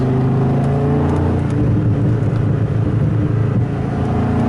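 A 2002 Dodge Viper RT/10 roadster engine drones loudly and steadily, a deep, rumbling V10 tone held under load with slight rises in pitch, close and continuous without talk.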